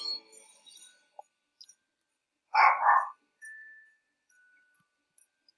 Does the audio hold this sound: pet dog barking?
yes